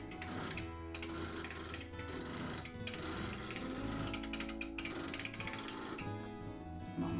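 Quilting frame rollers turn as a quilt is rolled along, giving a steady run of clicking ratchet and gear-like mechanical ticks, close and fairly quiet, with no voices.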